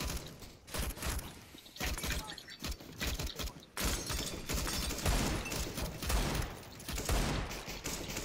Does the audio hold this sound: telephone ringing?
no